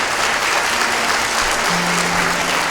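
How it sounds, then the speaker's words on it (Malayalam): A large crowd at a Manappuram Day 2025 corporate event gives sustained, loud, even applause, a dense wash of many hands clapping without break, with a faint low hum running beneath. "അതിന് നമുക്ക് എല്ലാവർക്കും കൂടെ ചേർന്ന് ആ കുടുംബത്തിനൊരു വലിയ കയ്യടി കൊടുക്കും."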